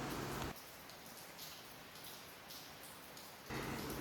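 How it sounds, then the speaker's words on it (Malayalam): Morning rain falls around a house as a quiet, continuous wash of patter, a little fuller at the start and end, with no one speaking. "മഴ പെയ്യുമ്പോഴുള്ള സൗണ്ട് കേൾക്കാൻ നല്ല രസമാണല്ലേ."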